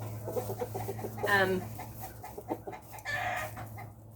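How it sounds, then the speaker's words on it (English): A rooster crows loudly nearby, with soft clucks before and after and a steady low hum in the background. "Roosters are funny. They protect their flock."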